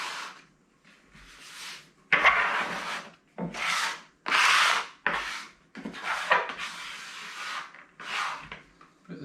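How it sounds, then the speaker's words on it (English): A scraper scrapes lardy cake dough off a work surface in a series of short, close, rasping strokes with brief pauses between, and no talk. "Scrape this up."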